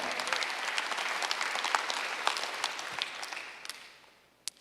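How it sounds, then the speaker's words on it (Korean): A church congregation at a Sunday worship service claps together in a lively, crisp burst that gradually thins and fades out, leaving a couple of last scattered claps at the end. "생각을 바꾸면 삶이 바뀌어지는 거 믿는 사람만 박수하세요"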